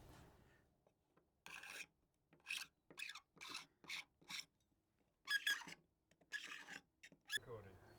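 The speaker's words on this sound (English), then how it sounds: "now we've cleaned it off with the scraper" Paint scraper rasping across cured resin filler on old window timber, a series of short broadband scrapes in bursts, close and fairly quiet with pauses between strokes.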